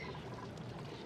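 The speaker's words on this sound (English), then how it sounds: "we are dumping liquids into here now" Liquid pours continuously in the Oxygen Not Included video game, a faint, even gushing wash with no break over about a second.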